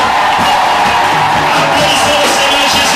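A church congregation cheers and acclaims a pastor, a loud, continuous crowd roar of shouts and whoops filling the room without pause for the full length.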